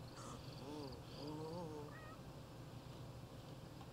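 A cat meows several times in The Sims 3 game, short rising and falling mews rather faint over a steady low hum of background game ambience.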